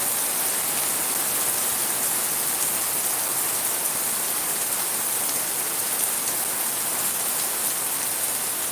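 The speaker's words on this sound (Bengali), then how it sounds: "আপনারা এই বৃষ্টির পড়াটা দেখলে বুঝতে পারবা যে আসলে কত বৃষ্টি হয়।" Heavy rain pours down steadily in Sylhet, a dense, unbroken hiss of drops drumming on surfaces that stays loud and even throughout, with no voices over it.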